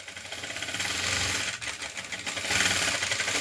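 A sewing machine runs steadily as it stitches a blouse neckline, a fast mechanical chatter close by with slight speed changes, no voices.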